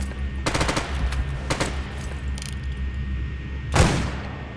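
Gunfire in the game Stalker Radiophobia 3 during a fight with mercenaries: rapid automatic bursts, then a second volley and a heavier single shot, loud and reverberant, with no talking.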